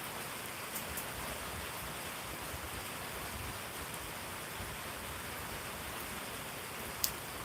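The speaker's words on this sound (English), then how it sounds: "You can hear the rain on the roof." Steady rain drumming on a metal roof, a dense even patter with a sharp drip or tap near the end, no voices.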